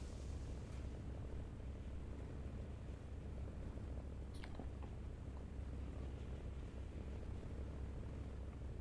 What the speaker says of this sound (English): Oh, that's a Japanese bomber being engaged, I think.